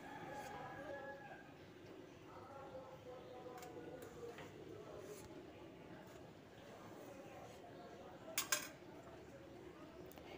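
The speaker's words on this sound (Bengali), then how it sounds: "এবার ছুরি দিয়ে এই রকমভাবে সরু সরু করে কেটে নেব।" Knife slicing okra (ladies finger) into thin strips, giving soft, faint, irregular taps and clicks against a board, with a voice talking in the background.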